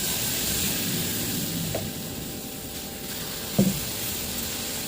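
Bakshalu batter, thin like dosa batter, sizzling in a hot oiled pan, a steady broadband frying hiss with a couple of brief clinks of a utensil against the pan.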